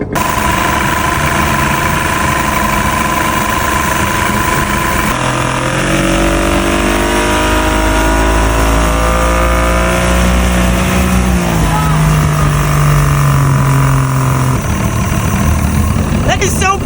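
A 1959 fiberglass runabout boat's outboard engine runs close and loud, chugging steadily before its pitch climbs and sweeps as it revs up, with people talking over it.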